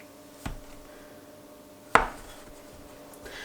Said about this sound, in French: on va venir couper la pâte